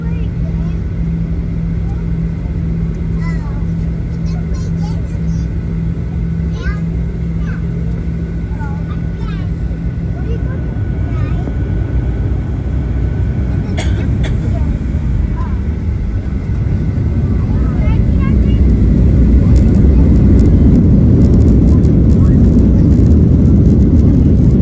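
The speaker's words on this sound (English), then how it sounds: "here we go with our takeoff on runway 34 right" A United Boeing 737-900ER takes off from runway 34 right, heard from inside the cabin as a steady engine drone that swells into a louder, deeper roar during the takeoff roll.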